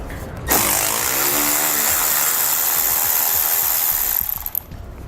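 A power tool, likely an impact driver or drill, loudly spins out fasteners under the front of a 2013 vehicle while a Roadmaster crossbar-style base plate kit is being installed, running steadily for about four seconds before stopping.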